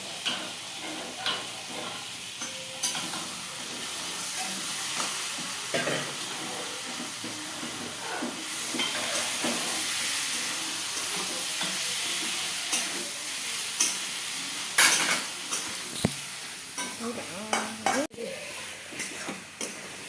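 Chicken kosha, a spiced Bengali chicken dish, sizzles steadily in a pan while a utensil scrapes and stirs through it in irregular strokes, close and fairly loud, with occasional sharper clinks of the pan.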